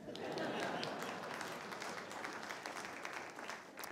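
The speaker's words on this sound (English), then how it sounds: "Feel free to applaud." Lecture audience applauding, a faint, fairly distant spread of clapping that swells early and then thins out gradually over a few seconds, with some murmuring mixed in.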